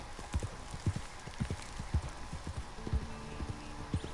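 Horses in Red Dead Redemption 2 make rhythmic hoof clip-clops at a steady walking pace, fairly quiet over soft background ambience.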